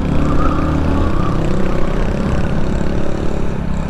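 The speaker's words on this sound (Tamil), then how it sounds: "இந்த கேரளா ஸ்ப்ளெண்டர் பாருங்களேன், சூப்பராக இருக்குது சவுண்டு. பீட்டே வந்து நல்லா பாப்ஸ் அண்ட் பேங்க்ஸ் மாதிரி இது வந்துட்டுருக்கு" Hero Splendor Pro motorcycle engine with a loud, steady low thumping beat and exhaust pops, recorded close on a coastal road ride, with a continuous rumble throughout.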